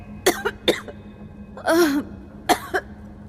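A woman coughs and clears her throat in short bursts, four separate fits with a longer rasping one in the middle, close and alone in a dusty basement.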